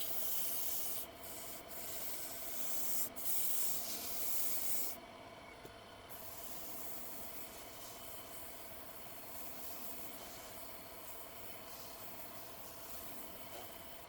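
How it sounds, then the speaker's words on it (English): Continuous rubbing hiss of a sanding sponge worked over a wooden baby rattle turning on a lathe, steady and close, with the lathe's low hum running underneath throughout. "We sand the entire surface of the rattle with a sanding sponge."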